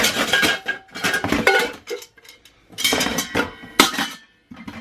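Metal camping cook pots clank and clink as they are handled and shifted around, in several bursts of clattering with short pauses between, fairly close and moderately loud.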